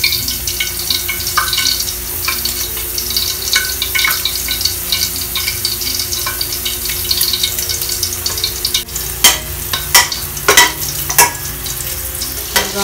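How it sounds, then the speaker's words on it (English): Garlic and onion frying in a pan, a constant close sizzle running throughout, with sharper utensil clinks and scrapes gathering toward the end and no talking. "Ilalagay ko yung onion and garlic na natin."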